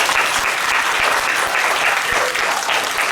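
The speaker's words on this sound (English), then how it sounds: "everybody clap for class Kansi." Children at a primary school assembly clap together in a dense, steady burst of applause filling the room, loud and sustained throughout.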